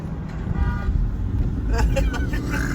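Car horns honk in short bursts amid road traffic, heard from inside a car under a steady engine and road rumble, with people talking over it.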